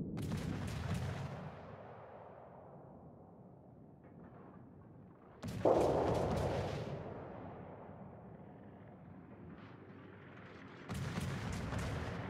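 Naval artillery in the World of Warships game, three heavy booming salvos spaced several seconds apart, each a loud deep blast that rolls off into a long rumbling decay, with no talking.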